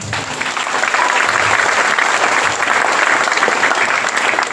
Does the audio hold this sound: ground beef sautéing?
no